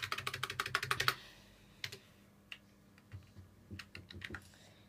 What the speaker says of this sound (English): you need to type in E W M E W and then type in FUD